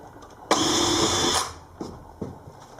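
A single burst of a cordless drill whirring for about a second while drilling a pilot hole in a narrowboat ceiling, fairly close, followed by a couple of light clicks and knocks.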